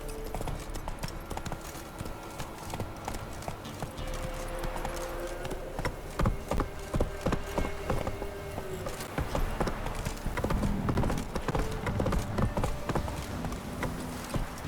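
Horse hooves clip-clop at a steady gallop in The Witcher 3, with creaking tack and ambient game sounds around them, at a moderate level.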